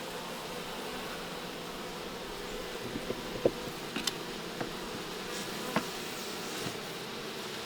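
Wild honey bees buzz around a hive in a steady, soft, close droning hum, with occasional faint clicks and taps over the continuous insect noise.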